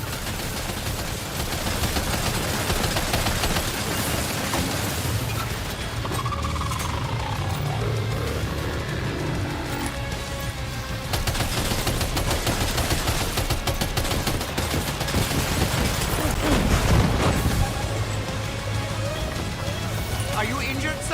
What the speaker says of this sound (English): Sam, I need you to keep that thing distracted. Opening fire now.